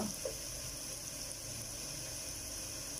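Water pours steadily into a pan of frying cumin and spices, a continuous, even hiss and trickle with no pauses throughout.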